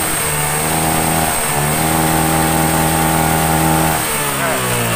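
A Yamaha Jupiter MX motorcycle engine runs loud and close, its revs rising and dipping in a steady drone with a high whine above it.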